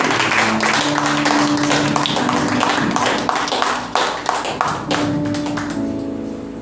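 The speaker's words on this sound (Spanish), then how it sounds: "Den un aplauso con todo tu corazón." A church congregation clapping at a sermon, with loud, sharp, rhythmic claps in a steady beat alongside sustained music tones, tapering off near the end.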